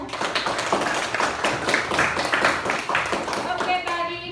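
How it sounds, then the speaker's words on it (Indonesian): Classmates clap for a student in a school classroom, a short burst of scattered hand claps that thins out toward the end, with voices talking over it. "Kita berikan tepuk tangan untuk temanmu."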